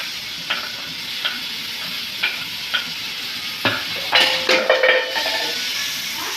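Tomatoes tossed into a pan of reddish-browned garlic frying in oil give a steady close sizzle, with utensil scrapes and taps every second or so and a quicker cluster of clatters near the end.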